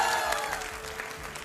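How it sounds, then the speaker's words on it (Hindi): Studio audience applause on a televised debate show, fairly faint, steady clapping over a humming background tone, lasting only a moment. "आप भी तालियों के साथ बहुत स्वागत है"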